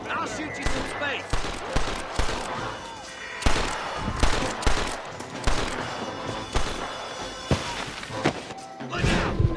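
A Red Dead Redemption shootout brings repeated sharp gunshots at uneven intervals, some close and loud, over game ambience with voices talking between the shots.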